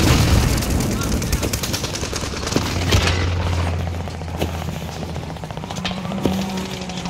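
Gunfire in Call of Duty: Warzone crackles amid a constant helicopter-like drone and distant booms, with scattered sharp shots rising over a dense, rumbling battlefield din.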